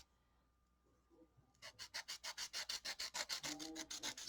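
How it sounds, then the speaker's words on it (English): A paper blending stump rubbed back and forth on sandpaper to clean pencil colour off, giving a run of about fifteen quick, even scratchy strokes, close and fairly loud, after a quiet start. "you just rub it on the sandpaper. And it'll get that color right off"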